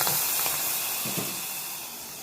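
Hot oil tempering (popu) for tomato rasam hisses and sizzles steadily, a loud, close spitting wash that slowly fades, with no voices.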